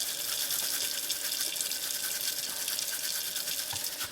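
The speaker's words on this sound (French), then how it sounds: "Vous prenez une petite brosse avec un peu de savon." A small brush with soap scrubbing the cylinder of a rotary cheese grater under running water, a steady close watery scrubbing hiss throughout with no speech.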